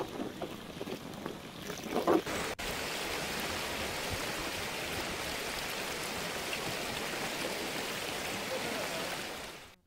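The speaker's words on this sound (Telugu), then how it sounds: "వాగు ఉధృతంగా ప్రవహిస్తుండటంతో వాహన రాకపోకలను పోలీసులు నిషేధించారు" A flooded stream during Cyclone Montha in Nandyal, rushing strongly with a dense, steady roar of water that fills the whole clip after a brief stretch of rougher handling noise near the start.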